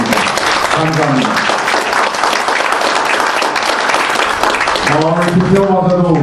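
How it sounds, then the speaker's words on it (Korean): Audience at a Korean international diplomacy and security forum gives sustained, dense applause, a steady crackling wash of clapping, while a voice speaks over it at the start and again near the end. "우리 신 박사에게 다시 한번 박수 한번 드리겠습니다."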